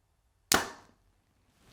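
A compound bow shoots an arrow at a target, giving one sharp, loud snap that decays quickly into quiet, with a faint rustle afterward and no talking.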